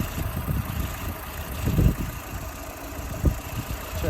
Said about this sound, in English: start the vehicle. Let the vehicle idle for a minute.